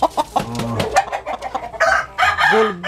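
A rooster crows loudly and close up, with clucks and other fowl calls mixed in, on a chicken breeder's premises, sounding busy and continuous.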